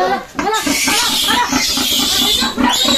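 A sow with her newborn piglets on a farm, the piglets squealing in constant high-pitched bursts at close range while people talk over the noise.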